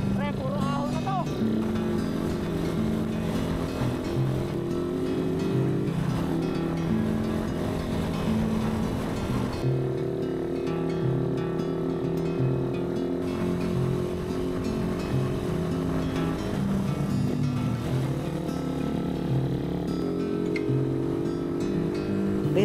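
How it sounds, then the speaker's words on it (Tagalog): Suzuki Raider 150 motorcycles climbing the steep uphill road of Mt. Samat, engines droning steadily and loud throughout with shifting pitch as they labor up the slope, wind noise mixed in. "basic lang sa mga motor namin ang pag-akyat ng Samat"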